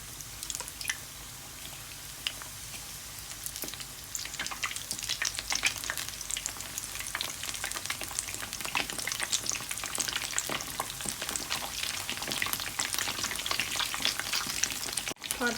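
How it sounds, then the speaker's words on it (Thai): Battered shrimp deep-fry in oil over medium heat, giving a steady close sizzle with crackling pops and bubbling throughout, with no speech. "ถ้าทอดไฟแรง เดี๋ยว กุ้งจะไม่สุกแต่แป้งจะไหม้ก่อนนะคะ"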